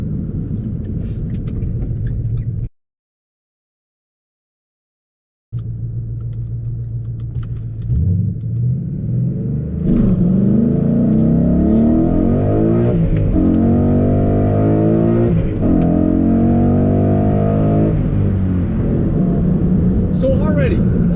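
A 2014 Ford Mustang GT with headers and full bolt-ons rumbles loudly at idle, then revs up and down in repeated rising sweeps after a short gap of silence, with someone talking over the engine.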